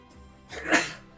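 A single sharp sneeze bursts out close and loud, rising quickly and fading within about half a second against a quiet background.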